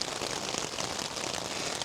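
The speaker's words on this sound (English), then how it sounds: "Well, it's pouring, if you can't tell." Heavy rain pours steadily onto a tarp, a dense, even patter and hiss with no pauses and no voices.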